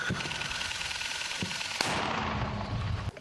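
A few sharp artillery gunshots crack out at uneven intervals on the front line near Klishchiivka, the third louder than the rest, over a low background rumble.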